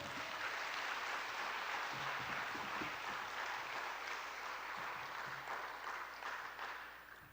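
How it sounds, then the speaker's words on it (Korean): A church congregation at a Sunday service in Daegu applauds steadily for several seconds, a soft, even wash of clapping heard from a distance that thins slightly at the end. "박수 한번 칩시다, 우리."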